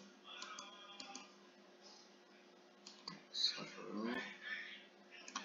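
A computer mouse clicks a few times, sharp and close, under quiet speech while stock shares are being bought on screen.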